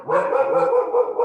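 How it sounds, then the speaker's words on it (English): A dog barks in a quick run of loud, close yelps and barks that carry on through the whole moment, with no voices over it. "I'm sorry, that's my dog."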